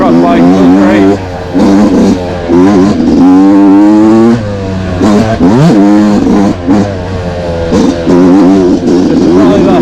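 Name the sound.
Yamaha YZ motocross bike being ridden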